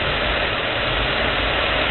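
A GM 3800 series V6 car engine idles after a cold start while the cooling system is being air-bled, a steady, continuous low rumble that holds evenly throughout with no talk.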